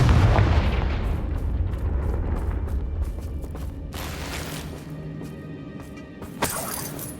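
A heavy Confringo blast in Hogwarts Legacy near a damaged old bridge, a loud rumbling explosion that decays slowly, with a sharp crack near the end.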